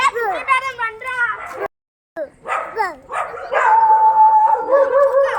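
A voice makes repeated yipping, bow-wow-like calls imitating a dog, broken by a short silence and followed by a longer drawn-out tone.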